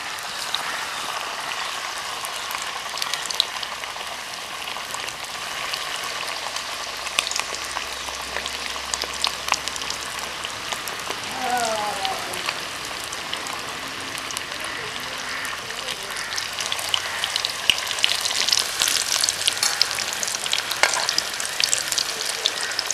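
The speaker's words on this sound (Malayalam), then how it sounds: "നമുക്ക് ഇത് ഓരോന്ന് എടുത്ത് നമ്മുടെ എണ്ണയിലേക്ക് പൊരിക്കാൻ വെക്കാം." Oat-coated chicken pieces deep fry in hot oil, a steady bubbling sizzle with light clinks and stirring, growing slightly busier toward the end, with no talk.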